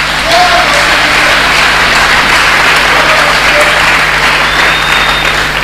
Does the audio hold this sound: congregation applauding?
yes